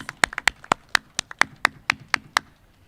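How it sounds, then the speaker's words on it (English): A few hands clap sparsely in an uneven, close rhythm at an honoring ceremony at Brooklyn Borough Hall, then the claps fade out. "Can you give yourself a round of applause?"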